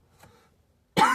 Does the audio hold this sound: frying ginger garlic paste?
no